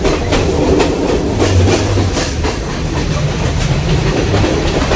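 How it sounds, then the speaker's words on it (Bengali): A train leaving a station in Colombo, Sri Lanka, rumbles loudly with a steady rhythmic clickety-clack of wheels over rail joints, heard from on board and continuous throughout. "ট্রেন ছেড়ে দিয়েছে যাচ্ছি"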